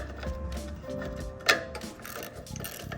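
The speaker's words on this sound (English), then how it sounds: "So I'm gonna take my ratchet." A ratchet wrench works at a pressure washer's oil drain plug, giving a short burst of close mechanical clicking with one sharp peak amid faint background clatter.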